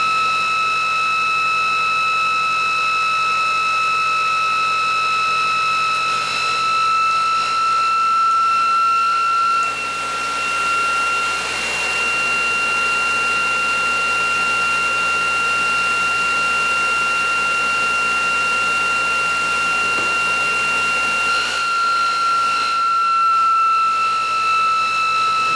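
A ReGenX motor runs at no load with a steady, continuous electric whine and hum that holds level throughout, with slight wavering near the middle.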